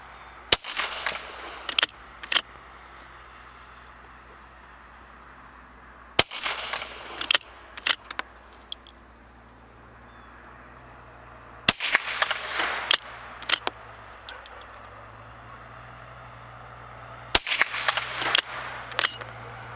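A rifle fitted with a Lyman No. 1 peep sight fires four sharp, loud shots spaced several seconds apart outdoors, each followed by a short burst of rattling and handling clicks.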